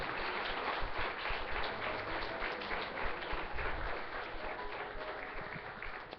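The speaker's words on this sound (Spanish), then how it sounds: "Dale un aplauso fuerte al Señor" A church congregation applauding, dense steady clapping heard fairly faint and slightly muffled throughout.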